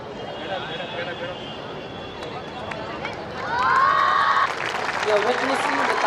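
A crowd at a school sports day applauds and cheers after a performance, noise swelling sharply midway with shouts and clapping over a steady murmur of voices.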